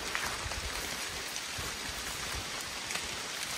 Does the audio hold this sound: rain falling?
yes